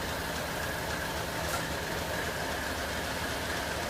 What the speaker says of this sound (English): A close-up view of the engine captured the synchronized movement of its mechanical components, a visual and auditory testament to its engineering heritage.